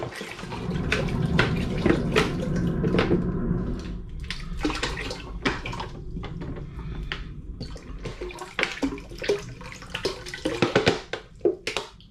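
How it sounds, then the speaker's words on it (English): Sparkling spring water poured into a cider brewing bucket, a steady splashing gush that thins into irregular glugs and drips toward the end, close and alone. "I'm now adding 4 more litres of excited spring water"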